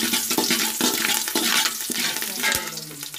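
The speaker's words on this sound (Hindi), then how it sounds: "अब इसमें कटे हुए हरी मिर्च डाल लेंगे।" Green chillies and curry leaves sizzle in hot oil for a fish biryani, a loud, dense continuous frying hiss with a brief thump near the end.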